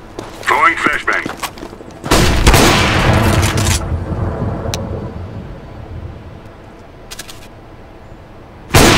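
Grenade explosion in the Counter-Strike: Global Offensive video game, a loud close blast with a long rumbling tail, among scattered gunfire and game effects.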